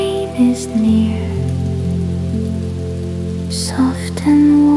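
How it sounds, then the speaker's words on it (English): Steady rain falls on a night in Tokyo, a soft, even patter that runs beneath sustained gentle tones, with a few brighter splashes along the way. "Rain is near"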